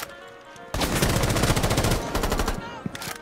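Rainbow Six Siege gunfire comes in a loud, rapid burst of automatic fire lasting over a second, then fades into a few scattered bangs and clatter, with a faint voice in the background.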